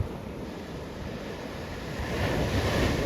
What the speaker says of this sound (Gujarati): આમ જુઓ હે મોજા કેવા